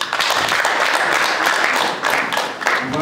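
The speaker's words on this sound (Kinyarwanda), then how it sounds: "Abagira ngo banyemerere abo twagendanye bandi baberekeje babakomera amashyi tubashimire." Audience applause for the escort party at a lavish Rwandan wedding celebration, a steady wash of many hands clapping together that holds for a few seconds with slight swells, fairly loud and close, with no voices standing out.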